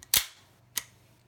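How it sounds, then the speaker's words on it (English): Two dry-fire clicks from a dirty Sig Sauer Mosquito pistol, a sharp snap followed by a softer click about half a second later, close and isolated. "Chamber the gun, no round in it. Pull your trigger."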